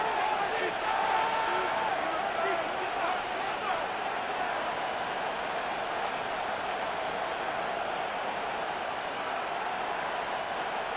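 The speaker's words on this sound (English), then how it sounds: "The crowd making their presence felt." Steady stadium crowd roar from a Madden NFL 26 football game, a dense, continuous wash of noise that holds at an even, fairly loud level throughout.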